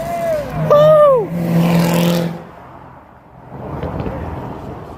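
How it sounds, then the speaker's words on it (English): Loud cars blast past on a street outside a Planned Parenthood clinic in Phoenix, Arizona, a roaring engine sweep rising and falling over a couple of seconds, with a person talking and cheering around it. "You guys must hear loud cars all the time."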